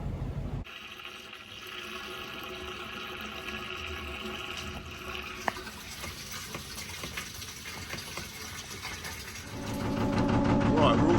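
Water running from a hose into a canal narrowboat's tank, a steady hiss and trickle with a faint engine hum beneath, swelling louder and rougher near the end.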